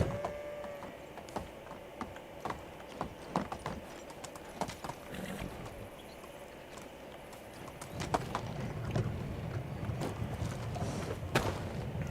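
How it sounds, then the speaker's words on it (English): Horse hooves clip-clop at a steady walking pace in the video game Medieval Dynasty, with soft game ambience underneath and a few louder thuds near the end. "So I went to get the horse."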